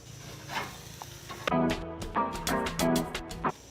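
Thai red curry burgers sizzle steadily in a hot pan as they are flipped, with a string of close scraping and clattering spatula hits over the frying crackle.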